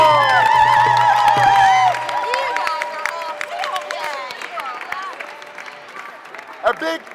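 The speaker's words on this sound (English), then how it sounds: "Give yourselves a round of applause." Audience applause and cheering at a STEAM Co. school event, whoops and shouts over clapping, loud at first, then settling into a looser, thinner round of claps with scattered voices.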